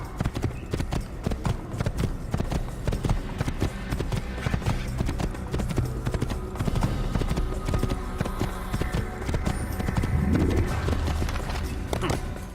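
Clip-clop hoofbeats from a horse galloping in the video game Assassin's Creed, a fast, steady rhythmic drumming heard close with a whinny-like swell near the end and game sounds mixed in.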